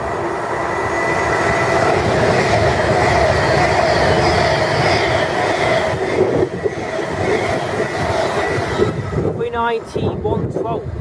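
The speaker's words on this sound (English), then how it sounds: "Here's the 1407 Virgin train service to London Euston from Manchester Piccadilly." A Virgin passenger train on the London Euston to Manchester Piccadilly service moves through Milton Keynes Central station with a loud, steady rumble and clatter of wheels, then wheel squeal near the end. Announcements play over the train.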